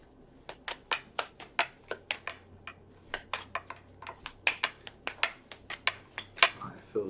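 Tarot cards being shuffled by hand, a rapid series of crisp, close papery snaps and flicks in an uneven rhythm, with no talking.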